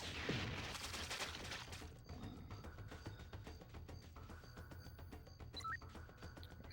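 Explosive rocket fire from Jet Force Gemini on the N64, a dense run of rapid blasts and booms over a steady low game drone, loud and continuous with no talk.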